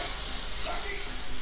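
Close, steady sizzling and hissing of food frying in a pan just after being flipped, a continuous bright crackle without pauses over the short stretch.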